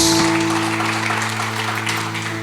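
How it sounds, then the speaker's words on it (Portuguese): A church congregation applauding at a Quinta Fire evening service: a dense wash of clapping from many hands over a sustained organ-like musical drone, gradually easing in volume. "Você pode aplaudir Jesus pela vida do homem de Deus?"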